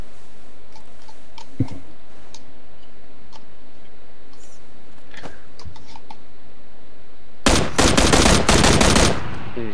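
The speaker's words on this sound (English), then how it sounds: "There is somebody over to the southwest shooting at him." PUBG battle royale gunfire: a few scattered single shots early on, then a loud, rapid automatic burst near the end, with no talking.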